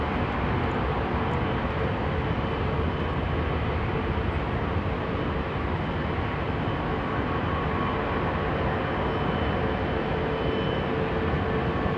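An Airbus A380 makes a derated departure from London Heathrow, a broad steady roar of jet engines heard from a distance without a break and with no speech.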